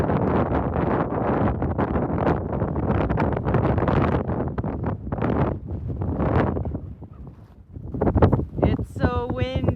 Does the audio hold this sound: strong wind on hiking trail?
yes